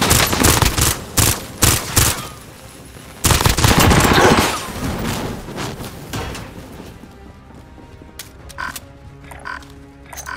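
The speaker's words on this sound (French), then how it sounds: "J'essuie des tirs." Gunfire rings out in the video game Warzone: loud, close bursts of rapid shots at first, then quieter scattered fire and distant rattles against a noisy background.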